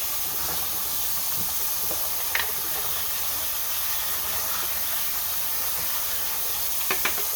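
Steady hiss of running water as weighing boats are rinsed, with a few faint knocks and clinks, close and continuous.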